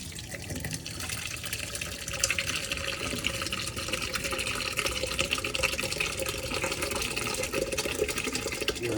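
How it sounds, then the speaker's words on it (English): Cheese curds and whey pour steadily through a strainer, making a continuous close rushing, splashing stream of liquid for the whole stretch. "we're gonna dump that dude right through the strainer here and get our cheese"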